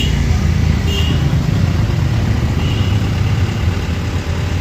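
A car engine idling on a hill road in a mountain village, a loud, steady low rumble that holds without pauses, with no talk over it.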